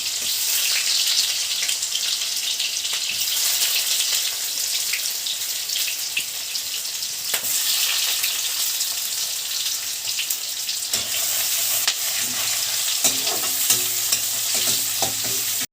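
Onions fry in a pan over browned garlic while being stirred, a steady close sizzle broken by scraping utensil strokes and occasional light knocks against the pan, with no talking.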